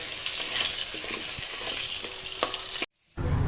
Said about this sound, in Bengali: আলুটাকেও লাল করে ভেজে নেব।